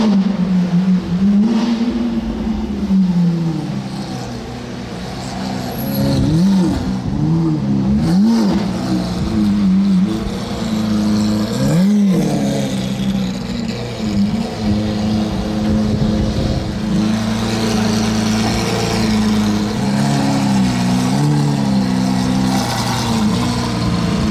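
A Ferrari GTO with a V12 engine roars loudly past nearby, its revs rising and falling in repeated wavering sweeps as it accelerates, over roughly twenty seconds of engine noise.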